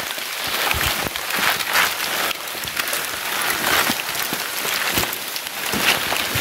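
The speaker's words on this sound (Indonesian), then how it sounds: "hujan guys." Rain patters steadily on surfaces during a hike on Gunung Talang, a dense, close, continuous spray of drops with scattered louder taps and no talking.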